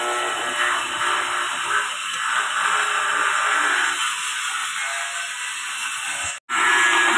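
Marinated meat goes into a hot pan for a curry with fresh ground chili, giving a steady broadband sizzle that holds loudly and continuously for several seconds with one brief dropout near the end.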